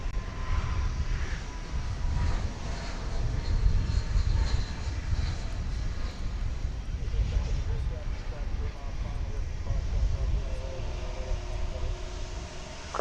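A United Airbus A319 arriving from Houston at DFW at night gives a low, distant engine rumble that stays fairly quiet and even throughout, with airport radio chatter and voices running over it.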